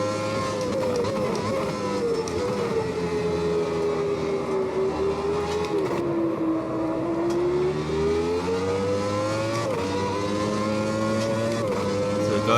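A Formula Classic Gen3 open-wheeler lapping Silverstone 1991 in Automobilista 2 holds a loud, high engine howl that slowly falls through a long corner and climbs again, with brief shifts near the end and no voices.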